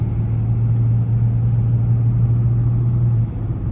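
Nissan Frontier pickup truck engine rumbling steadily while driving, a deep constant drone with a sustained low hum that drops away near the end as the transmission shifts gear.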